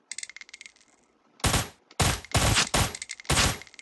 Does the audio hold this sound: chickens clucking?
no